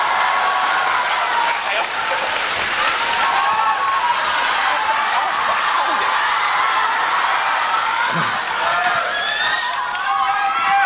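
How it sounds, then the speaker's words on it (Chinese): A crowd at a Deyunshe crosstalk show claps and cheers loudly and continuously, with scattered whoops and an exclaiming voice rising above the applause. "谢谢各位的掌声，还有欢呼声"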